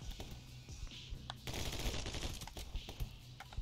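Video game gunfire with rapid automatic bursts, loud and close, ending in a dense stretch of continuous shots.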